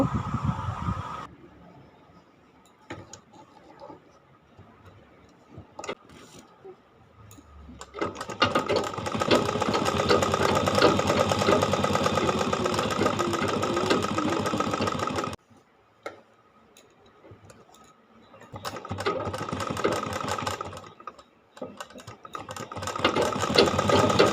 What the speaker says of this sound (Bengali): এবার আমি সেলাই করব